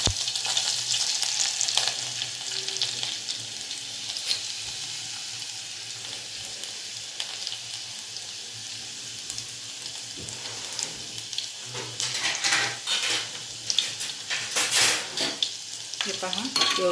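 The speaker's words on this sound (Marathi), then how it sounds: "मोहरीचा तडका बघा कसा येतोय" Mustard seeds crackle and sizzle in hot oil for a tadka, a steady close hiss with bursts of sharper popping and spattering toward the end, plus light utensil stirring.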